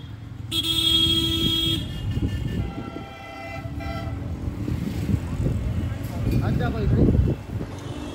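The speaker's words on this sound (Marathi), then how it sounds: "इथे एवढं तिथे काय नाही एवढं ट्रॅफिक." Busy road traffic near a gym, heard while out Diwali shopping in the evening, with a loud steady car horn blast early on and more engine and horn noise beneath close voices talking throughout.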